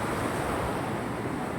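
Sea waves washing onto the clean sandy shore of a Pangasinan beach, a loud, steady rushing surf with wind noise and no voices.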